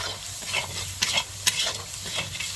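Spice masala with turmeric fries in a pan for chicken kasha, a close, steady sizzle broken by a few sharp spoon scrapes and taps while it is stirred, no voices.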